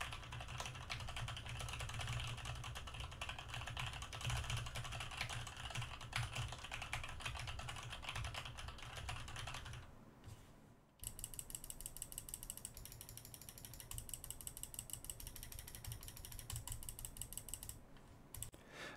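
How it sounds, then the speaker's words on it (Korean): Computer keyboard keys and mouse buttons are pressed close to an EPOS B20 microphone: a quiet, rapid run of clicky typing, a short pause, then more dense, ratchet-like key clatter alone. "그러면 키보드와 마우스 버튼을 눌러보도록 하겠습니다."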